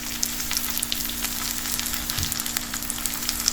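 Beetroot with turmeric sautéing in a pan for chutney, a steady close crackling sizzle of hot oil with faint tick-like pops throughout.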